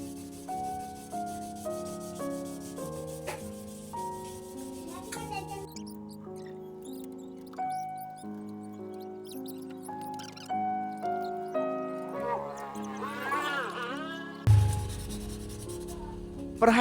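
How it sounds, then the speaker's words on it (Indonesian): Soft, steady rubbing of sandpaper on a wooden machete sheath, mostly buried under music with sustained tones, with a brief rougher scrape near the end. "Gosokkan amplas secara perlahan dan sedikit mengambang pada warangka"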